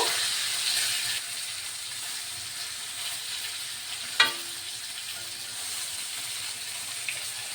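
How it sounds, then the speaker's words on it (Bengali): Koi fish sizzles steadily in a hot pan of oil while being turned, a constant close hiss broken by one sharp utensil clack partway through and a softer tap near the end. "একটু লাল লাল করে আমি ভেজে নিচ্ছি।"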